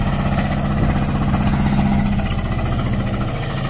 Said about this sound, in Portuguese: O motor vai e pegou.